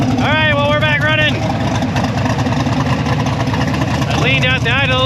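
A vehicle engine idles steadily with its mixture just leaned out, a continuous low rumble running through the whole stretch, with high whistling tones rising over it near the start and again near the end.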